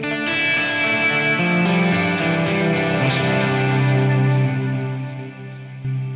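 An electric guitar through a HeadRush unit with a NAM amp profile plays sustained, distorted chords with a delay effect, the notes ringing and echoing before fading toward the end.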